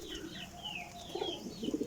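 French pigeons coo in soft, low, rounded bursts, close by and growing more frequent toward the end, over faint higher bird chirps.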